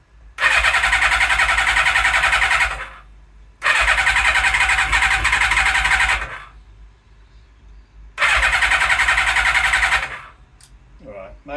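A Suzuki Katana motorcycle with its choke partly on is cranked by the electric starter in three long, loud, buzzing bursts separated by short pauses, without catching, followed by a brief squeak at the end.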